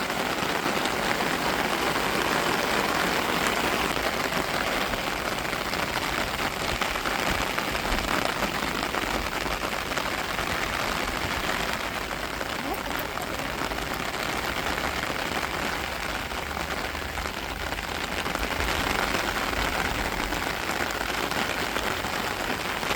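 Heavy rain pours down steadily, a dense, continuous hiss of water drumming on surfaces with no letup.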